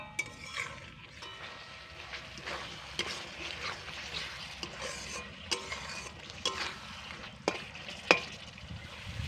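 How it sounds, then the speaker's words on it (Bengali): Spice paste and tomatoes being stir-fried in oil in a pan, a low, constant sizzle under irregular scraping and tapping from a spatula, close by, with no speech. "এবার একসঙ্গে বেশ ভালো করে যতক্ষণ না তেল ছেড়ে দিচ্ছে মশলা থেকে ততক্ষণ কষিয়ে নেব।"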